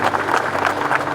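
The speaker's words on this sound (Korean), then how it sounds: "선배님께 큰 박수 한번 드리는 시간 갖도록 하겠습니다." A short, loud burst of audience applause for a senior comedian, dense clapping lasting only about a second.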